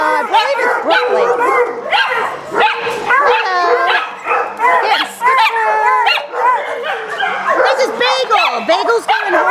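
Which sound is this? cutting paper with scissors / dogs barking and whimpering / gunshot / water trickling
dogs barking and whimpering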